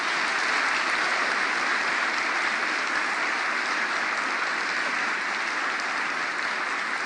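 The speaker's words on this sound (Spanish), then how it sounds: "quiero pedirles un aplauso en homenaje a Elba, a Celina y a los padres jesuitas" Audience applause at a conversation forum at the UCA, clapping in homage to slain Jesuit priests; dense, steady, loud clapping fills the whole stretch without pause.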